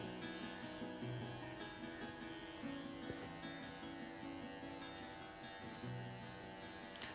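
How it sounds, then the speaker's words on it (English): Electric dog clippers buzz as they tidy a Cockapoo's coat in a teddy bear trim, a quiet, steady hum with slight shifts in tone as the blades move through the hair. No one speaks. "I'm just tidying over the clipper work again now that her shape's in."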